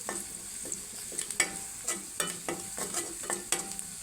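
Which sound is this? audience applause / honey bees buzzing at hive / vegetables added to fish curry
vegetables added to fish curry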